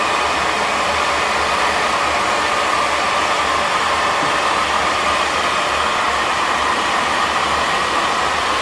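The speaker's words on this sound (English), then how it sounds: "She is getting her hair blow dried now." A hair dryer blows a girl's hair dry with a steady, loud, broadband whoosh that holds without a break from start to finish, close to the microphone and with no one talking over it.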